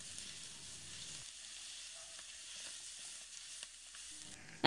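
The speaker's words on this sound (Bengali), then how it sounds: "এখন ঠিক এইভাবে একটু ভেজে নেওয়ার পরে এর মধ্যে দিয়ে দিচ্ছি আদা আর কাঁচা লঙ্কা বাটা। এবার আরও 2 মিনিট মতো ভেজে নিচ্ছি।" Peas, tomato, ginger and green chili paste sizzle and fry steadily in a pan for a vegetarian Bengali cabbage curry, a continuous close hiss with faint stirring scrapes and no talk.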